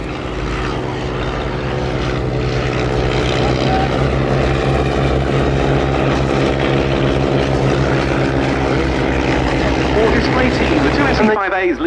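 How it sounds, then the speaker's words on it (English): BE-2C and Avro 504K replica propeller biplanes at an air show give a steady, loud droning engine buzz throughout, with a commentator talking over it. "Leading in the BE-2C and the Avro 504K, which is a replica built by the Pursang company in Argentina."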